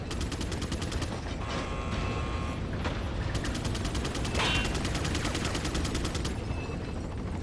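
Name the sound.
gunfire in the video game Resident Evil 4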